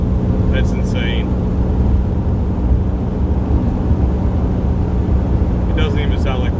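Nissan 300ZX Z31 with a swapped-in 350Z differential and open exhaust, heard from inside while driving: a steady low engine and road drone with no strong whine standing out.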